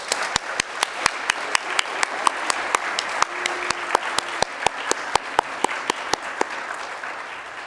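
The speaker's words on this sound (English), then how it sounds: "Let's give another round of applause" A church congregation applauds after a song, a dense wash of many hands clapping steadily while one louder, sharper clap lands close by at a regular beat.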